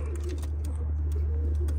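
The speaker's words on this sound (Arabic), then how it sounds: "هاي الطيور مالات باكستان مباشر شباب" Pigeons newly brought from Pakistan cooing softly in a loft, low murmuring coos over a constant low hum, with faint ticks and chirps from nearby birds.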